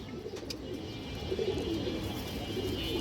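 Ring-eyed pigeons coo in a soft, continuous low murmur, several birds overlapping at a moderate distance with faint chirps above a steady background hum.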